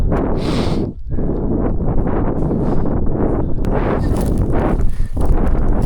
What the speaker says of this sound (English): The wind has kind of changed a little bit.